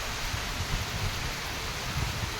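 Rain pours down in a steady, dense, even hiss with no breaks, fairly loud and close, with no voices.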